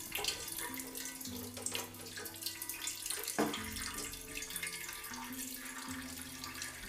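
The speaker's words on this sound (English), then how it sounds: "you can probably hear all of the whey draining out" Whey draining from a hanging cloth bag of farmhouse cheddar curds with peppercorns, a steady close trickling and splashing of liquid running continuously into a container below, with no talk.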